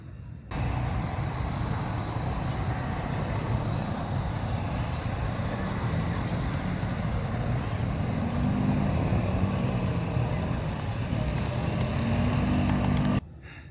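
Motorbikes rumble through the rock pinnacles of Goreme in Cappadocia, a steady engine drone held at a moderate distance for the whole stretch, with faint bird calls high above it.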